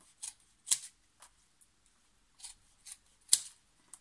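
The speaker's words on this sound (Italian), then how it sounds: "Prendo le altre forbici che mi sono cadute" Scissors snip through a paper sewing pattern in several short, irregular cuts, quiet and close, with no one talking.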